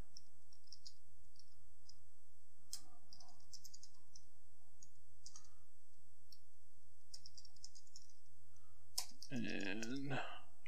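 A command for John the Ripper is typed on a computer keyboard. Sparse light key clicks come in short irregular bursts over a steady low hum, and a brief louder voice-like sound comes near the end.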